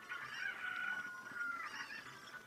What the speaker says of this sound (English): he just puts three chickens in a room